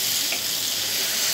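Brinjal frying in a pan with salt stirred in, a steady close broadband sizzle running throughout, with no separate stirring strokes clearly standing out.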